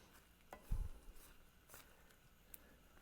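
A spoon stirs and folds shrimp and crab meat dressing, giving soft, faint scrapes and one brief, louder wet clack, otherwise quiet and sparse.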